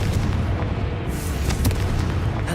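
A Confringo fire spell detonates in Hogwarts Legacy with a deep, rumbling boom, a loud close blast that rolls on as a sustained roar for the whole moment.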